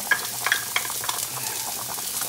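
Onion sizzling in a pan at the start of cooking spaghetti with clams: a brief, close, steady frying hiss with a few light crackles, no voices.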